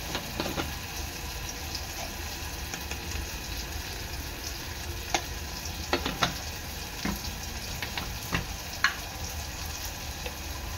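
Agri Koli masala and turmeric fry in hot oil over cooked onion and tomato, giving a steady, moderate sizzle with occasional stirring clinks and pops.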